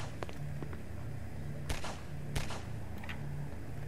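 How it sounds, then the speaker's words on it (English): Sharp, distant gunshots crack a few times over a steady low hum of ambience in a Roblox game set in City 17, with no talking. "there's already gunshots"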